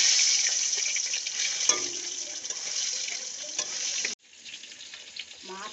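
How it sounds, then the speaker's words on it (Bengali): Fish seasoned with salt and turmeric sizzles loudly in hot oil for a curry with cauliflower, a steady crackling hiss that drops off abruptly near the end, leaving quieter sizzle and light clatter. "মাছ ভাজা হয়ে গেছে"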